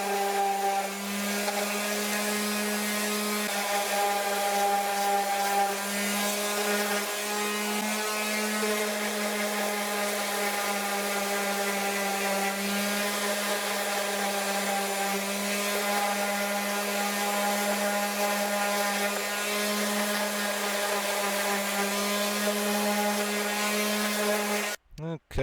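A power sander whines steadily against PVC pipe for a homemade bird feeder, a continuous close, droning hum that holds for nearly the whole stretch before cutting off abruptly at the end.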